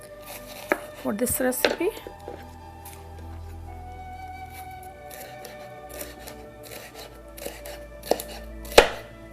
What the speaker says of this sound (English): This is a large pepper. We'll just go ahead and cut it in half.